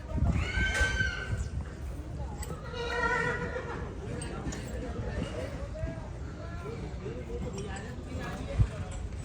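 A horse whinnies a couple of times amid a busy outdoor crowd at an animal fair, with people talking and faint hoof clatter in the background.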